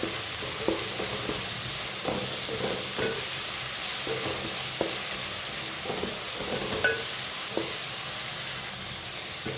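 Curry leaves sizzling in hot oil in a pan while a Tamil fish curry cooks, a steady close frying hiss with faint stirring scrapes and no talking.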